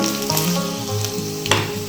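Sliced onions sizzle and crackle steadily in hot oil, close up, with occasional clinks of a utensil stirring the pan, for a bottle gourd tempering.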